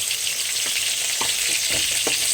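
Thin eggplant slices fry in hot oil, giving a dense, continuous sizzle with a few soft stirring or turning sounds, close and alone with no voices.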